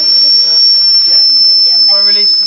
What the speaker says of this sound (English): so I'm letting all the steam out and then let it build up again.